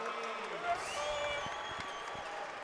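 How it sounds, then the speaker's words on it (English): Volleyball fans roar at a Covelli Center match, a sustained wash of crowd cheering and whistles under a commentator's voice, steady and lively throughout the brief moment. "that got the crowd absolutely ignited here in the Covelli Center"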